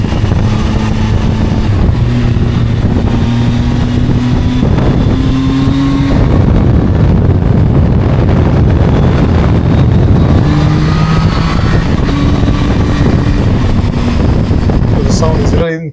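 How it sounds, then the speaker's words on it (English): A loud, steady Zontes 703F touring motorcycle engine roars throughout, rising and shifting pitch as it revs, with heavy wind rush over it. "the engine, the sound."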